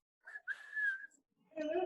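A melodic whistle rises and holds a bright tune, briefly pausing before a fuller, lower tone swells in at the end.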